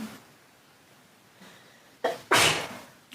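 One sharp sneeze breaks a quiet room during a Buddhist guru yoga teaching, preceded by a short intake and followed by a brief second burst, close and loud against the hush.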